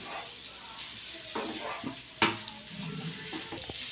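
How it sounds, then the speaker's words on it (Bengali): Semolina pulao is stirred in a pan over low heat, a soft sizzle with scattered spoon scrapes and one sharper knock against the pan, quiet and close. "আর 5 মিনিট নাড়ি"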